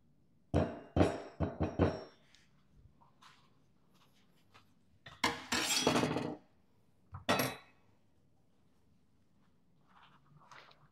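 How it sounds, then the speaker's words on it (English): A half cup of Jif peanut butter goes into a bowl for a peanut butter pie filling, with a few clinks and thunks against the bowl and utensil in short bursts, separated by quiet gaps. "half cup of peanut butter going in"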